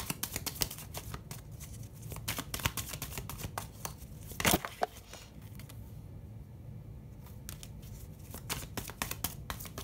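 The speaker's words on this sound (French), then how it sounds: "J'ai envie de tirer une autre carte." Tarot cards being shuffled and one drawn, with rapid soft riffling flutters and slaps close by, a brief sharp snap midway and quieter card handling after.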